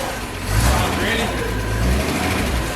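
A car engine runs steadily after finally starting, a continuous low rumble with slight swells in level, heard under nearby talking.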